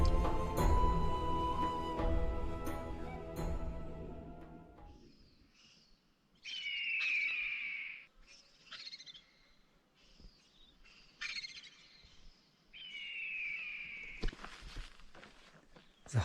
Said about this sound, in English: you can hear the sounds of crows, pigeons,